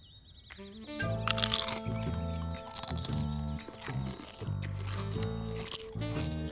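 Close, loud crunching and chewing of steamed greens and soaked pumpkin seeds, continuous and wet, with faint musical tones running underneath.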